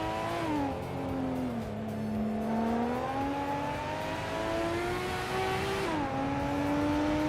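A 1995 BMW 850 CSI race car engine in a racing video game, holding a loud steady drone that climbs and shifts pitch through gear changes, close and continuous without talk.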